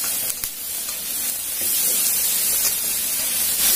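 Pickled mustard greens and bean sprouts stir-fried over high heat sizzle and hiss steadily in a hot pan, a loud, continuous frying roar with faint scraping, growing slightly stronger toward the end.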